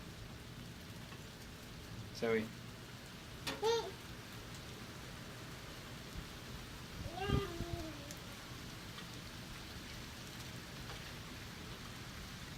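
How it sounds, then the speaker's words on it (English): Rain patters softly and evenly in the background while a cat meows several times close by and a person speaks briefly. "do you like the rain?"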